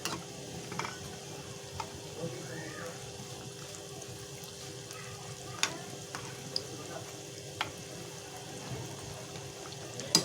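Batata vada, the last batch of the evening's potato fritters, frying in hot oil with a soft continuous sizzle, occasional sharp clicks and scrapes as they are turned one by one, fairly quiet and alone.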